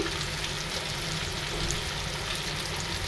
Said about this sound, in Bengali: হালকা যে মাছগুলো হালকা করে ভেজে নিচ্ছি